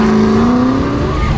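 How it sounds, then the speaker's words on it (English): A Camaro race car in the sports car class runs the Goodguys Colorado autocross course, its loud engine note droning close and rising slightly in pitch under track noise. "Mark 11 in the 50 Shades Camaro built by Tom Bichette and Dragon Lady Racing"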